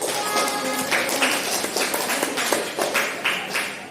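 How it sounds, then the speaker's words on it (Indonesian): Schoolchildren in an Indonesian sixth-grade social studies class clap their hands together. The claps are close and fairly loud, with sharper hits landing in a loose, roughly regular rhythm over a steady spatter of clapping. "Yuk, beri tepuk tangan."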